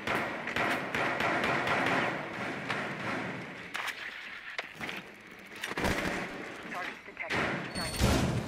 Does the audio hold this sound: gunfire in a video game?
yes